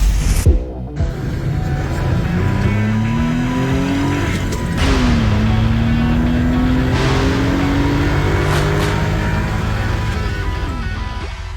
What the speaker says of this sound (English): Those car sounds, courtesy of Patrick and his Suzuki Carry.